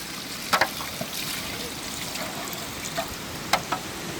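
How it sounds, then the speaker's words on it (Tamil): Water is poured into cooking masala for paneer biryani, a faint, soft trickle with a few light splashes close by. "அளவு தண்ணி ஊத்திக்கலாம்."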